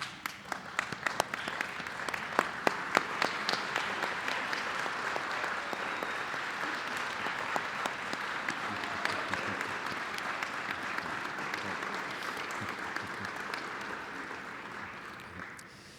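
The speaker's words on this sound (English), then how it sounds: "stand and give these graduates a well-deserved round of applause" A large standing audience applauds graduates at a 2021 commencement ceremony, sustained even clapping filling a big hall for the full stretch, with a few louder individual claps early on and a slight fade at the end.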